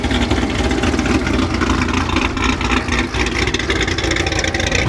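A car idles with a choppy, lumpy rhythm at a Houston car meet, a loud, steady engine rumble that stays close and fills the whole stretch without any talking.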